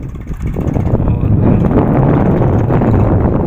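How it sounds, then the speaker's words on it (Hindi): A tractor ploughs a field, its engine a steady loud low rumble throughout, mixed with rough wind buffeting on the microphone. "वो चल रहा है ट्रैक्टर"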